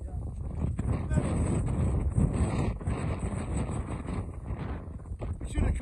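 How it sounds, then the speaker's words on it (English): Steady, heavy wind roaring and buffeting the microphone on a stormy, rainy beach at Jaywick during Storm Dennis, with low rumbling gusts throughout and a voice talking underneath. "Very windy, very rainy, very stormy."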